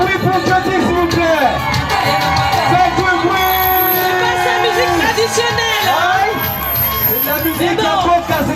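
A crowd at a Congolese sape fashion gathering at Orly cheers, whoops and shouts, loud and close, with voices calling out over the din and music or singing running underneath.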